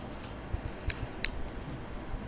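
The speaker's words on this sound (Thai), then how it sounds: "เสร็จเรียบร้อยแล้วครับสำหรับการทำเสียงคลิกเมาส์นะครับ" A few crisp, sharp clicks like a computer mouse button, spaced irregularly over a faint background hiss.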